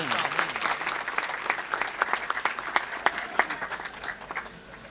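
A congregation claps warmly during a Thanksgiving first Holy Mass for a newly ordained priest, with dense, steady applause heard from a moderate distance that thins out toward the end.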